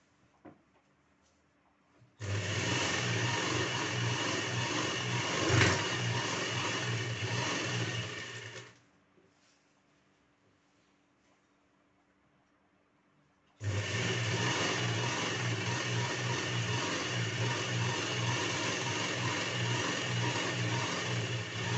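A sewing machine runs in two long steady bursts stitching the hem of a salwar, loud and close, with a quiet pause between the runs.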